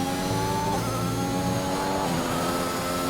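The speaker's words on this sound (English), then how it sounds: "I was wondering why the car's revs weren't getting louder." A safety car's engine hums and revs in a Spanish GP racing game, with steady tonal engine notes that shift pitch partway through and stay at a constant, fairly loud level.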